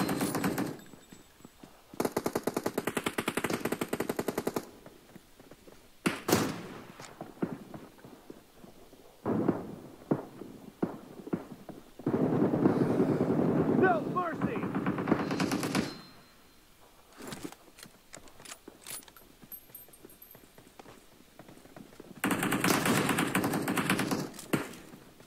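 Bursts of automatic gunfire from the mobile battle-royale game PUBG Mobile, several long sustained volleys and short rapid strings of shots, loud and close, separated by brief quieter gaps.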